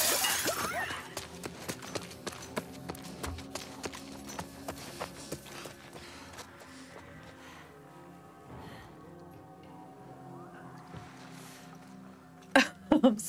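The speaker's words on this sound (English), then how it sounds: "if I break the glass and then run?" Glass smashes with a sharp, brief crash near the end of a stretch of footsteps and ambient game sound in The Last of Us Part II.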